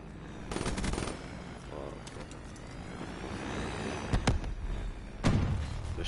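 Gunfire in Black Ops 3, scattered shots and a few sharp bangs against a busy background, with a player talking over it.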